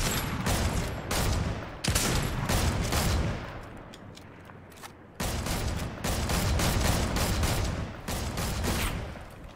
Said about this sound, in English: he's trying to shoot me too, sniper.